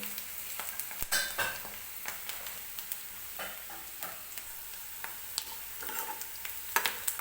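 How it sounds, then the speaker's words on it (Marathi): Onion fries in oil until soft, a quiet close sizzle broken by frequent sharp scrapes and taps of a spoon stirring in the pan, with no voices. "कांदा सॉफ्ट होईपर्यंत आपल्याला तेलामध्येच व्यवस्थित भाजून घ्यायचा आहे"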